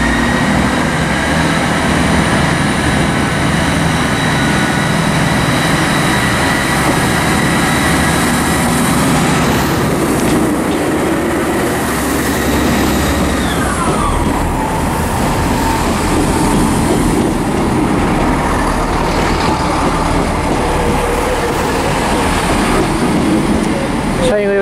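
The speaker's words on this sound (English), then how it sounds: "arriving is going to be the 1517 CrossCountry service to Birmingham New Street from Manchester Piccadilly" A passenger train pulls into Wolverhampton station with a loud, steady rumble and rail noise throughout, and a fading whine partway through.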